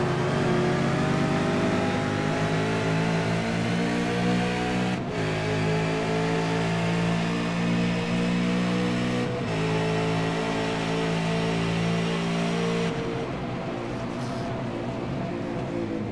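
A V8 Supercar Ford Falcon races through Hog Pen at Virginia, its engine revving hard and steadily close by, with two brief dips in the note as it changes gear, then a drop in pitch under braking near the end.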